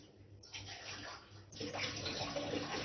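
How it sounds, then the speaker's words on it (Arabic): Water is poured into a pan of thick tomato sauce for oven-baked moussaka made without oil, a continuous close pouring and splashing that grows louder partway through. "انا هنا الصلصه عندي تقلت شويه، هحط لها شويه ميه"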